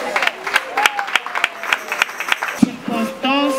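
An audience claps at a charity sharing-day event for widowed mothers, scattered rhythmic hand claps under a voice speaking, moderate and close.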